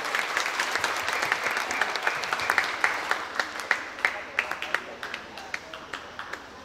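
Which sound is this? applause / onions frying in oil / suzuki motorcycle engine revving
applause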